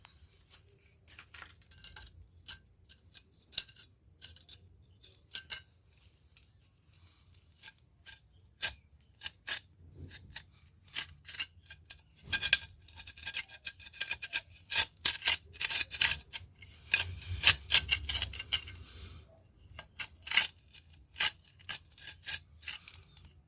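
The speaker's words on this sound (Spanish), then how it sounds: "se realiza un corte en los tallos" Plant stems are cut with scissors-like snips while herbarium samples are prepared, giving a string of sharp close clicks and crisp snips that grow busier and louder partway through, mixed with light rubbing and handling noises.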